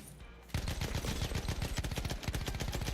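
Rapid automatic gunfire in Battlefield 1 multiplayer rattles continuously after a brief quiet start, loud bursts of close shots overlapping with denser fire throughout.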